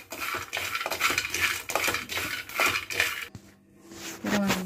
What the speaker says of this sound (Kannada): ಹಸಿ ಕಡಲೆಕಾಯಿ ಬೀಜ ಹಾಕ್ತಾ ಇದ್ದೀನಿ. ಇನ್ನು ಮೀಡಿಯಂ ಉರಿನಲ್ಲಿ ಹುರ್ಕೋಬೇಕು.